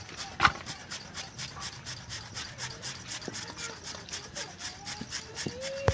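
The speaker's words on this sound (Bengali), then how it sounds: "এদিকে আমরা আলু নিলাম, ঘষে নেব আলুটা" Potato being grated by hand for cauliflower paratha makes a quiet, rhythmic rasping of rapid back-and-forth strokes, with a few sharp knocks scattered through.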